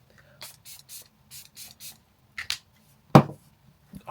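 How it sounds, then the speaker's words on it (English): Dalba First Serum Spray misted onto a face in a series of about eight short, soft hissing puffs, each near and brief, with a few quiet handling clicks afterward and no talking. "I'm using the Dalba First Serum Spray."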